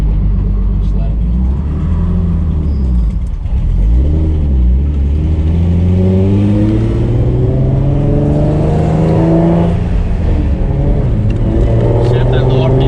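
Single turbo Nissan 350Z accelerating from inside the car, loud engine pulling up through the revs in rising sweeps with gear shifts between them, while people talk over it.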